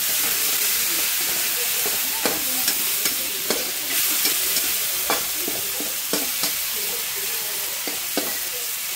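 Soy sauce hitting a hot pan of squid adobo with bacon and tomato, a loud steady sizzle and hiss with scattered stirring scrapes and clatters throughout.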